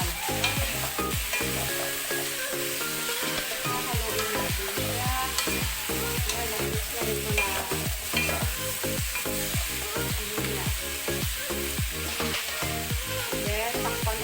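Ginisang kalabasa, a Filipino pumpkin stir-fry, sizzling in a pan, a constant bright frying hiss overlaid with rapid rhythmic knocking and scraping from steady stirring throughout.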